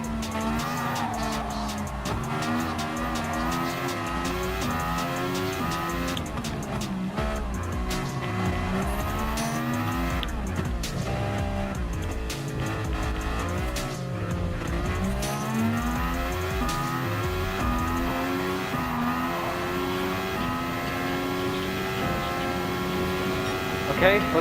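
Race car engine in Gran Turismo Sport lapping Circuit de Barcelona-Catalunya, a loud continuous drone whose pitch climbs and drops repeatedly through gear changes and corners for the whole stretch.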